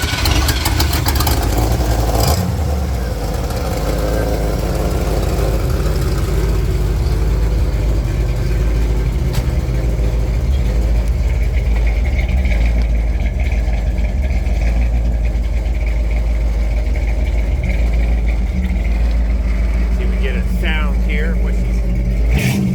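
A 1963 Chevrolet Impala SS with a 350 V8, ram's horn exhaust manifolds and a six-speed manual cranks and fires up, then settles into a loud, steady idle close by, with a person talking over it.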